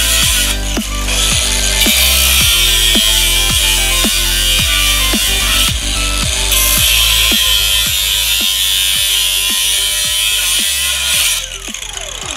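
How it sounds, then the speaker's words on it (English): A power grinder cuts into metal front shock mounts for a go-kart suspension build, a loud, steady high-pitched whine with a rapid regular ticking pulse running under it, dropping slightly near the end. "Grinding out these fancy little shock mounts."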